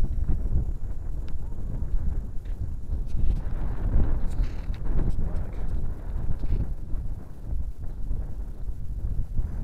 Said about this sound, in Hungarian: csak fúj a szél. Jócskán